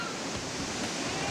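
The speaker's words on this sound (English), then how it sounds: "we're down at Upper Railroad Rapids with the rapids get longer, steeper, more dangerous" Whitewater rapids on the New River at Upper Railroad Rapids, a long, steep stretch, give a steady, dense roar of churning water that fills the short moment at close range without letup.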